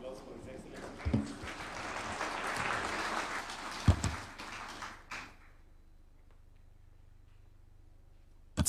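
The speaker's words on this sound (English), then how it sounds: "Another round of applause for His Excellency, please." A conference hall audience at an ambassadors and high commissioners gathering gives the Kenyan president another round of applause, a broad burst of clapping that swells then fades after about five seconds into quiet room tone, with a thump at the very end.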